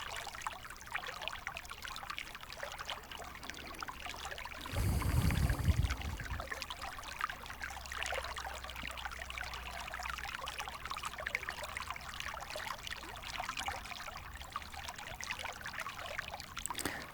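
Water pours and trickles steadily, a continuous stream with a brief louder gush in the middle, heard alone without any voices.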